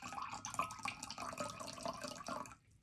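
Apple cider vinegar pours in a thin, steady stream into a measuring cup, a close, soft liquid trickle lasting a few seconds before stopping abruptly into near silence.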